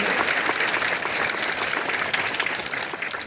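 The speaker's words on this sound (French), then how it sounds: "vos applaudissements, s'il vous plaît" An audience claps steadily at a school flag-raising ceremony in Ouakam, a dense, even wash of applause that holds at full strength throughout.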